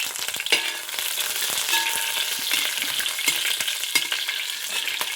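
Green chillies sizzle and crackle in hot oil for a simple chicken curry, a steady frying hiss with faint stirring clicks and scrapes running throughout, close and moderately loud, with no talking.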